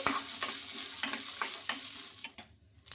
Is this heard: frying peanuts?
yes